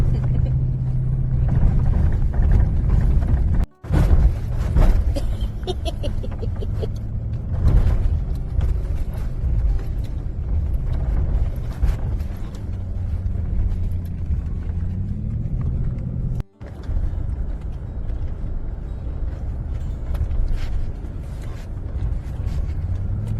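An off-road vehicle dune bashing across desert sand, with a steady low engine rumble, creaks and mechanical rattling from the bouncing ride, plus a couple of abrupt cut-outs along the way.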